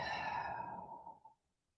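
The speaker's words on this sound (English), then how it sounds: "And exhale loudly." One loud, breathy exhale during a yoga breathing exercise, strong at first and then trailing off to silence after about a second and a half.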